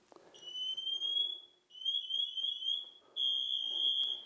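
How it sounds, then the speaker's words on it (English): A shrill electronic alarm, set off by pushing a big red emergency button, beeps in long high-pitched bursts, three of them with short gaps, fairly faint against a quiet room. "Now, here's the alarm here. This big red button."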